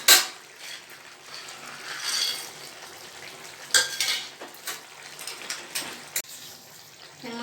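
Fried lentil dumplings (bori) being stirred into pumpkin greens cooking in a pan, a steady soft sizzle broken by a few scraping, clinking stirs of a spoon against the pot, close up with no talking.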